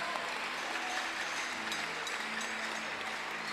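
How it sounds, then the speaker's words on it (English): A church congregation at a healing service claps for several seconds, a faint, even wash of many hands heard at a distance with no talk over it. "Clap for Jesus."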